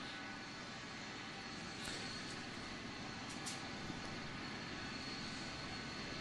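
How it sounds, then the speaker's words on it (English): Jet dryers drying a race track at Richmond give off a constant, loud roar like a jet engine, steady and unbroken throughout, with a few faint higher whines on top. "I still hear the jet dryers"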